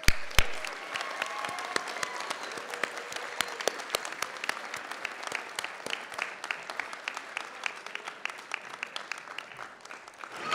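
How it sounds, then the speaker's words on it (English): Audience applause at a Dean's List ceremony, dense steady clapping from a crowd that starts loud with a few sharp claps and gradually thins and fades over ten seconds. "Now we're going to get a chance to clap for both of these groups again."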